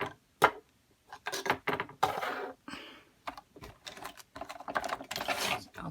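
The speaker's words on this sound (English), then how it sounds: "you can see how the cone winder, put it on zigzag top to bottom, zigzag top to bottom" A cone winder spooling yarn onto a cone in a zigzag top-to-bottom pattern gives intermittent mechanical whirring and clicking bursts, close and moderately loud, with short pauses between runs.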